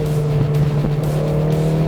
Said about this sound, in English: You can hear it when you come off throttle like that. It's just a sort of resonance through the exhaust pipes.